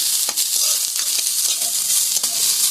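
Carrot and cabbage frying in a pan for Darjeeling-style chicken momo filling, a loud steady sizzle with occasional scrapes and stirring knocks throughout.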